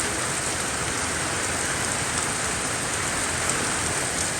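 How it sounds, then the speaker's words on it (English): Steady rain pours down on a backyard being leveled for an above ground pool. It makes a dense, even hiss that stays loud and unbroken throughout, with no voices. "I'm kind of happy that we're getting rain"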